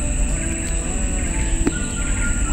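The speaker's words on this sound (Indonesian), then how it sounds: "Banyak sekali burung di sini, guys." Birds chirping in trees by the water, with many small calls scattered across a steady high insect-like whine, fairly close and lively, and no talking.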